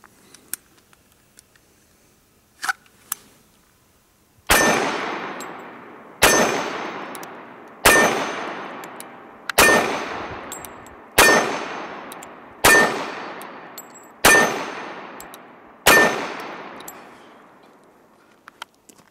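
A 1911 pistol fires eight loud, evenly spaced shots at steel targets. Each crack is followed by a bright metallic ring that slowly fades, and a few faint clicks come before the first shot.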